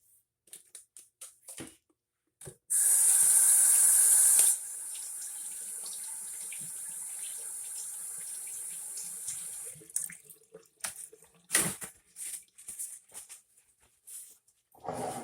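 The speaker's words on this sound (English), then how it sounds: "Now we're going to go rinse our hands again." A kitchen tap runs in a strong loud burst for about two seconds as hands are rinsed after packing raw turkey meat, then fades into softer trickles, clatter and scattered handling noises.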